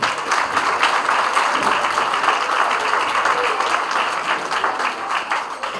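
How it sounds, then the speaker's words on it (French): An audience at a school year-end awards ceremony applauds continuously, a dense, even patter of many hands sustained for several seconds, close and fairly loud. "Est-ce qu'on peut applaudir pour elle?"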